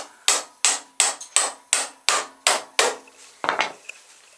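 Steady hammer blows on wood, about ten sharp strikes in an even rhythm, close and loud, followed by a couple of lighter knocks.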